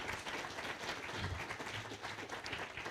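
An audience at a live democracy masterclass session applauds, a fairly faint, even wash of many hands clapping that is sustained throughout, with no voices heard over it.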